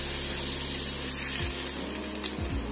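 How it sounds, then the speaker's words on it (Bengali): Hot tempered oil is poured little by little into homemade spicy lemon pickle, producing a constant close hiss and sizzle over a low hum, with a couple of soft liquid splashes near the end. "অল্প অল্প করে ফোড়ন দেওয়া তেলটা আমি আচারের মধ্যে মিশিয়ে দিচ্ছি।"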